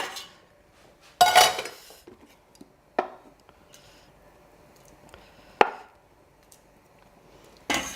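A knife cuts butter into small pieces for soft polenta, making four sharp, close taps on a board that are spaced a couple of seconds apart in a quiet kitchen.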